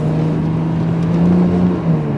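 A BMW G82 M4 with a modified exhaust idles and revs gently, a loud, steady low drone that swells slightly midway, close by and free of talk.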